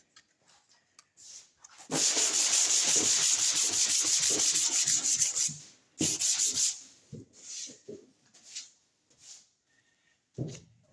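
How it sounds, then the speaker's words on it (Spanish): Hand sanding of body filler over small hail dents on a car panel, a loud continuous scraping rub at close range, followed by shorter separate strokes with pauses. "yo esto lo puedo seguir bajando, puedo seguir lijando"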